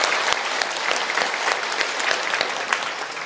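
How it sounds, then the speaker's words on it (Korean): A church congregation at a Sunday service in Busan applauds to welcome newcomers, a loud, sustained burst of many hands clapping close by, filling the whole moment. "우리 박수로 한번 맞이하겠습니다."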